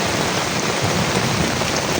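Steady rain falling beside a fish pond, a dense, even hiss of drops on water and surfaces, close and continuous with no voices.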